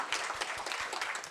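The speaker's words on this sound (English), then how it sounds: "You want to give him a round of applause?" Short burst of audience applause for a panelist at a human rights commission event, many hands clapping together for just over a second, fairly close and steady.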